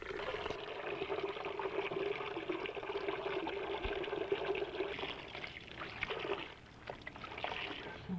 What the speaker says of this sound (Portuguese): No dia seguinte, coloque a massa num saco branco e esprema bem,